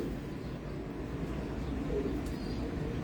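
In a home loft, a pigeon's low cooing sits under a steady, close background hum.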